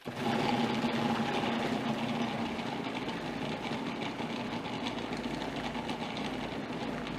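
A food processor grinds chicken for gyros, its motor giving a steady, continuous whirring drone. The faint grinding hum holds unchanged throughout with no voices.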